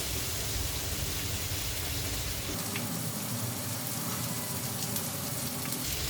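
Vegetables hitting hot oil and spices in a pan for an Indian paneer kathi roll, a steady loud sizzle and crackle that runs unbroken throughout with no voices.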